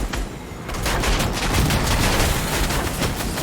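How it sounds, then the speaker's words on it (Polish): Another player's gunfire in Fortnite, a loud, sustained rapid burst of shots that continues for several seconds with almost no pauses. "Tak, strzela już."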